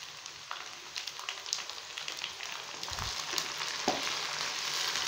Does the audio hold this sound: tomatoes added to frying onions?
yes